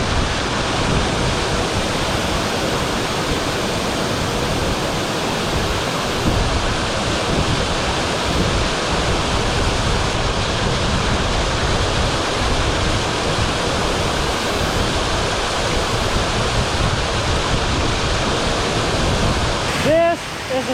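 A waterfall at Old Stone Fort State Park roars in a loud, unbroken rush close by, steady throughout, with a brief clatter right at the end.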